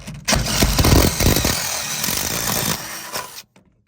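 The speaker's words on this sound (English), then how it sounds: "I'm using a 1/2-inch step bit on this" A power drill fitted with a 1/2-inch step bit grinds through a metal truck cab floor. The cutting is loud and rough and lasts about three seconds, then it stops abruptly.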